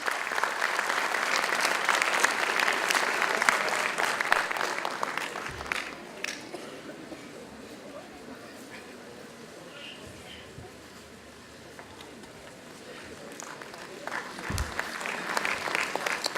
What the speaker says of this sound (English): big round of applause from the audience